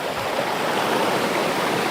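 A wide river rushes steadily over solid rocks, a close, even broadband wash of flowing water with no voices.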